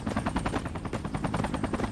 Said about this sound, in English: Enemy helicopter is hovering at Foxtrot